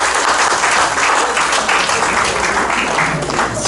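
A church congregation claps hands together in dense, sustained applause that fills the room evenly from start to finish, loud and close with no pauses.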